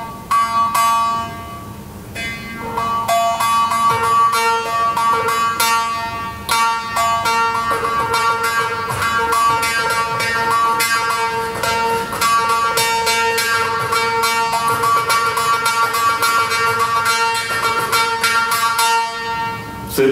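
Tiny Vietnamese jaw harp (moharsing), a small pencil-like instrument, played with fast twanging plucks and a buzzing, shifting overtone melody over a steady drone, loud and close throughout.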